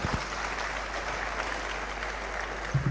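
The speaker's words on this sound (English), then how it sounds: "please another big round of applause." Audience applause at an investors' forum in Ogun State, a steady, fairly faint patter of clapping from a hall crowd heard over a low background hum, with a couple of louder bumps.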